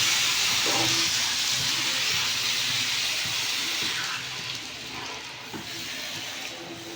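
Water poured into hot spiced oil for a rohu fish curry bursts into a loud, broad steamy hiss that stays strong for several seconds, then eases to a quieter, steady sizzle with faint knocks.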